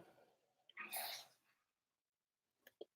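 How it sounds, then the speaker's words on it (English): A short hissing spray burst from an automatic air freshener near the start, followed by silence and a couple of faint clicks. "that sound was my automatic air freshener thingy going off"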